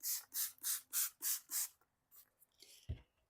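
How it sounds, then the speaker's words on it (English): Six quick hissing bursts from a hand spray bottle soaking newspaper laid over a seed tray for pepper and tomato seeds, evenly spaced and close, followed by softer rustles and a small knock. "So spray your newspaper down real heavy and get it good and wet."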